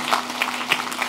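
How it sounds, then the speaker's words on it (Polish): Applause at a Polish prayer meeting for physical healing, a brief steady patter of clapping from a gathered congregation, fairly loud and even throughout. "Oklaski dla Jezusa, dla chwały Jezusa, dla chwały Marii"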